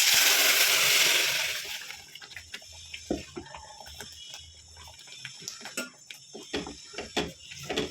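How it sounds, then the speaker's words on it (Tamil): Ground horse gram paste goes into a hot pan of dried red chilli and curry leaf tempering for kollu kulambu. A loud hiss opens the moment, followed by quieter, scattered bubbling and faint clicks. "இப்போ நம்ம வந்து அரைச்சி வச்ச கொள்ளு பருப்பை நம்ம சேர்த்திக்கலாம்"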